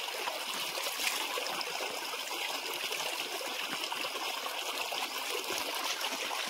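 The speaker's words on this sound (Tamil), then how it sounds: "தண்ணி எப்பவும் வந்துகிட்டே இருக்குது" Water flows steadily along a dam irrigation channel near a grove, a continuous close trickling and rushing with no voices.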